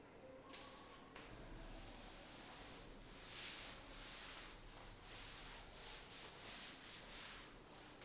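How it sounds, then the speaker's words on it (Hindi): A pencil eraser rubs back and forth over an engineering drawing of an ellipse on paper, making a faint, steady scratchy hiss that continues for several seconds with no talking. "चलिए मैं रब कर रहा हूँ ना।"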